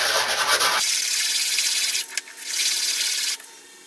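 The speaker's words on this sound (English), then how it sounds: "So I'll take a big chunk of it off with this rougher 120" Coarse 120-grit sandpaper rubs hard against the thick inner edge of a coin ring, a loud, steady, gritty scratching that runs continuously with a brief dip partway through.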